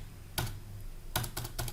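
Computer keyboard keys pressed in short bursts while drafting in CAD software, a single click followed by a quick cluster of three or four crisp, close taps.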